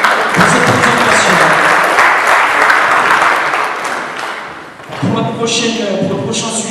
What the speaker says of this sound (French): On peut encore l'applaudir et le saluer pour cette présentation.